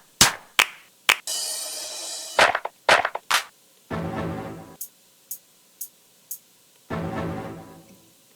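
Clap one-shot samples auditioned during a beat-making session, a string of sharp, dry hand-clap hits in irregular bursts, some single and some layered, interleaved with brief sustained sample previews and short silences, loud and up front.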